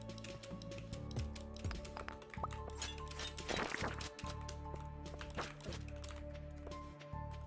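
Rapid clacky typing on a high-end SteelSeries keyboard during a Stardew Valley Expanded game session, with fast irregular key strikes close to the mic, under faint game sounds and chimes.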